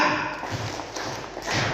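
Teachers at a training workshop clap a short patterned routine called the triangle clap, a few grouped, thudding beats in unison over a brief burst of crowd noise.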